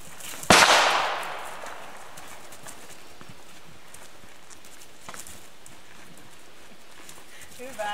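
A single sharp gunshot cracks out loud and close during a dog behaviour test outdoors in Ylöjärvi, its report ringing off and decaying over a second, followed by quiet open-air background and a faint later tap.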